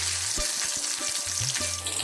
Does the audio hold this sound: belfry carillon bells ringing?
no